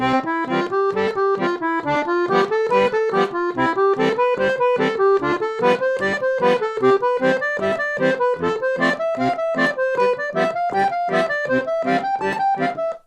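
An accordion plays a steady Hanon exercise with both hands, bass notes and chords pulsing in even rhythm under a rising and falling right-hand melody, continuous and fairly loud.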